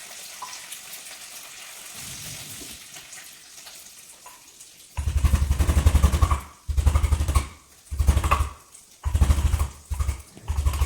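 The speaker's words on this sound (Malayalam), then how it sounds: "എഗ്ഗ് കറിക്ക് വേണ്ട ഇഞ്ചി വെളുത്തുള്ളി ക്രഷ് ചെയ്യുന്ന സൗണ്ടാണ് ഈ കേൾക്കുന്നത്" Ginger and garlic crushed for egg curry in a kitchen, a few seconds of quiet background and then a series of loud, heavy, rhythmic pounding bursts with short gaps between them.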